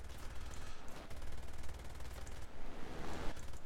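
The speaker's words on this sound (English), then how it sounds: "this AA fire is really starting to get me" Sustained anti-aircraft fire in War Thunder around a Bf 109 E-7/U2 during a dogfight, a dense steady stream of rapid gunfire bursts with no pauses, fairly distant and muffled, no voices.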